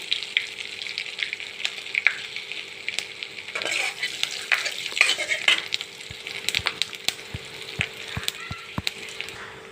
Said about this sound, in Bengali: এবার মাছ ভাজা তেলেই আমি ফোড়ন দিলাম।